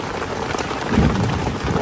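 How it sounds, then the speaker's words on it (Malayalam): Heavy rain pours steadily at a campsite as strong wind drives it, a dense continuous hiss with a slightly louder surge midway, close and loud with no voices. "കാറ്റ് കൊണ്ടുവന്ന മഴയായിരുന്നു"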